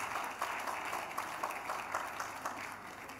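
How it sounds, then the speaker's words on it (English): A faint, distant round of audience clapping at a Christian talk, soft and steady with light rhythmic pulses throughout. "clap for them"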